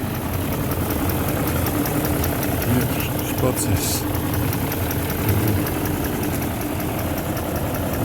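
A BMW E38 735i that stood for years by a fence idles steadily with a low, even rumble throughout, while someone talks briefly over it.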